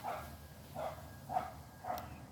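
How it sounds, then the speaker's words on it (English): A dog barks four times in an even, spaced rhythm, moderately close and fairly quiet, with no speech over it. "The dog is saying hi to you guys."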